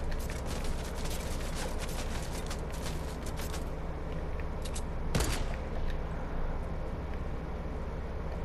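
Grenades spammed in a shooter video game burst repeatedly amid continuous battle noise, with one sharp, loud blast standing out partway through over a steady rumbling background.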